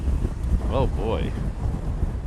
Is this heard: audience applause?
no